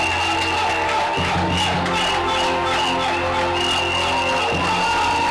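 A church congregation at a Sunday praise and worship service cheers and shouts in acclamation, a loud continuous crowd roar layered over music with sustained tones, full and steady throughout.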